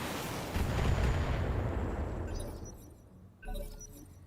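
Mech weapons fire in BattleTech, a loud booming volley with a shattering, crackling burst that trails off, followed by a second sharp impact near the end.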